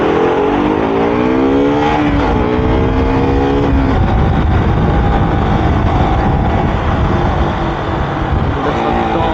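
A KTM RC 200 motorcycle engine runs loud and close, its revving pitch rising and falling early, then settling into a steady, rough roar with no voices over it.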